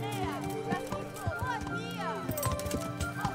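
A horse's hooves clip-clop on the ground as it arrives in the medieval game Kingdom Come: Deliverance, a few moderate hoofbeats beneath a talking voice and tonal background sound.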